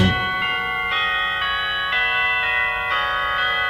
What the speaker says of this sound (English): the bells from the village below